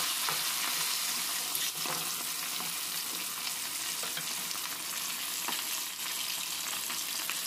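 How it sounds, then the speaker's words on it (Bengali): Rohu fish fries in hot oil in a pan with a steady, close, even sizzle and crackle throughout, broken by a few small pops and faint clicks. "তো এখানে মাছটা এক সাইডে ভাজা হয়ে গেছে, তো এইভাবে উল্টে দ্বিতীয় সাইডটাও ভেজে নিতে হবে"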